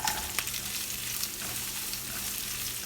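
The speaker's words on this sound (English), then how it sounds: "Then add curry leaves and 1 big onion." Curry leaves and a big onion frying in a pan for dosa filling, a steady close hiss of sizzling oil with a few faint stirring clicks, no voices.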